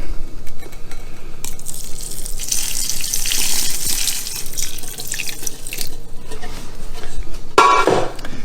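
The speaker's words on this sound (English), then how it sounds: "I'm going to start adding the water" Salt brine of unchlorinated water being poured into a jar of dill pickles for fermenting, a close, steady splashing stream with gurgles, a brief hissing surge midway and a clink near the end.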